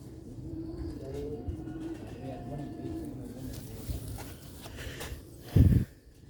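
Female Sialkoti pigeons on a rooftop coo softly in low, repeated rolling calls beneath someone talking, with a brief louder thump near the end.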